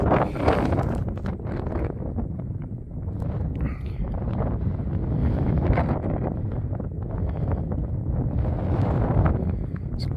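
Wind gusts across an open nature reserve near the sand-flats of Rye in East Sussex, a continuous rumbling buffet against the microphone that swells and eases throughout.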